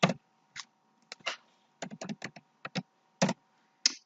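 Keys on a computer keyboard are struck in short, irregular bursts of close, crisp clicks separated by brief pauses, with no talking.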